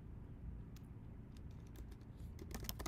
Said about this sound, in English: let's type in housing.